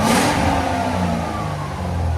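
A 2005-2009 Ford Mustang GT with a 4.6L V8 revs hard from idle, its loud, raspy exhaust roar swelling and holding steady through the clip, with no talking over it.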